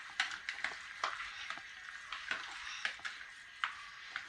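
Chicken pakoda fries in hot oil, a steady close crackle and sizzle broken by sharp popping bursts at an irregular rhythm, with no voices over it.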